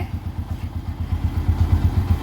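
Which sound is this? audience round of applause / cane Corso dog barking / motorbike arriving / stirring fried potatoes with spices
motorbike arriving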